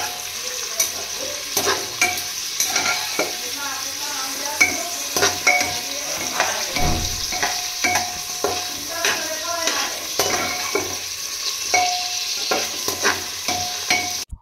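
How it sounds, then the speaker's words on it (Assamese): Onions fry in refined oil in a pot while a chicken pulao is made at home, giving a steady close sizzle broken by frequent, rhythmic scrapes and clicks of a stirring spoon against the pan. "পিয়াজখিনি অলপ গোল্ডেন হোৱালৈকে মই ভাজিম"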